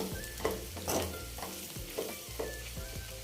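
Goat tripe fries in oil with coconut powder, soft sizzling under rhythmic scrapes and clinks of a spoon stirring the pan, close and fairly quiet.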